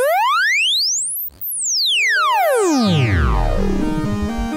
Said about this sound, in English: and fold wave.